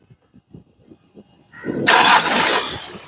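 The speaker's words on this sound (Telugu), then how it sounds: "ఒకసారి ఇంజన్ స్టార్ట్ చేయి." A 2020 Hyundai Venue SX catches on a single crank after a few clicks, then its engine roars up loudly and settles, close by and without talk.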